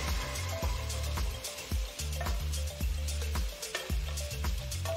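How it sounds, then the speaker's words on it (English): Sliced tomatoes and onions sauté in a pan with a steady close sizzle, broken by repeated low thumps and scrapes of stirring at a loose rhythm, with no voices. "add about 2 large tomatoes sliced. Saute the tomatoes for 5 minutes."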